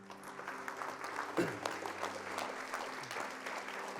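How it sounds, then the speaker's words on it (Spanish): Church congregation clapping during a worship service, a fairly faint, even patter of many hands with a low hum of voices or music underneath. "¿Le puedes dar un aplauso a tu papito?"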